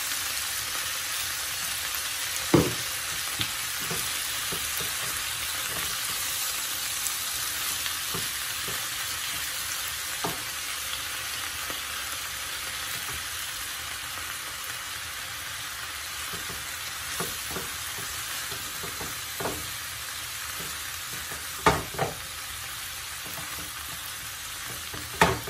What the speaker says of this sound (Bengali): মোমো একটা গন্ধ বেরোচ্ছে রসুন ভাজা।